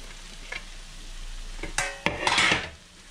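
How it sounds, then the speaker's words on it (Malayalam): Chopped garlic added to a pan while cooking turkey, giving a quiet stirring scrape and clink of a utensil against the pan, then a brief louder sizzling burst near the end, with no talking. "ഇനി നമ്മൾ ആദ്യം വെളുത്തുള്ളി അരിഞ്ഞ് വെച്ചിരിക്കുന്നത് ആഡ് ചെയ്യാണ്"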